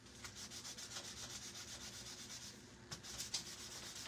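Cloth rubbed firmly back and forth over a waxed surface on a gingerbread house craft, a steady close scrubbing hiss with a couple of sharper strokes near the end and no talk.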